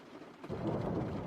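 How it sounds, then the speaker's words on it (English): Heavy rain pours steadily onto a roof, a dense drumming wash that swells in suddenly and holds at a moderate level, close and unbroken. "rain was still slapping against the roof"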